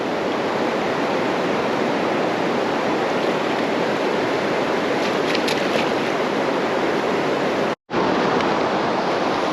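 River water in the Ozarks rushing steadily, a loud broad wash of flowing water heard close up, briefly cut off near the end before it resumes.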